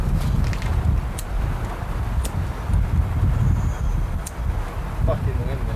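Wind buffets an outdoor microphone in New York City, making a constant loud low rumble with gusty surges throughout, and faint voices come through under it.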